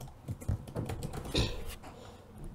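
Rapid irregular clicks of keys tapped on a computer keyboard, close and moderately loud, forming an uneven typing rhythm with no talking.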